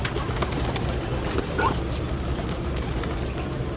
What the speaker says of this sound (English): There's William feeding the pigeons.